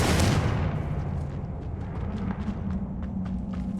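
Confringo spell explosion in the Hogwarts Legacy video game, a loud booming blast at the start that fades into a rumbling tail with small crackling debris.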